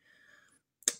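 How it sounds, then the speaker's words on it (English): An EMF meter going off during a paranormal session gives one sharp, fairly loud click after a faint, thin electronic tone. "The EMF meter going off."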